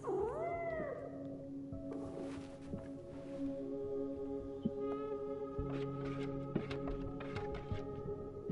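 A cat meowing in the video game Life is Strange, a couple of wavering meows at the start over a low steady hum, followed by faint scattered clicks and soft tones.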